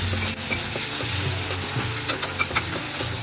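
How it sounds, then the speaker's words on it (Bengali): Chopped tomatoes with green chillies frying in a pan, a dense continuous sizzle with occasional utensil clinks and stirring, close and fairly loud throughout. "সব ভাজা ভাজা হয়ে গেছে"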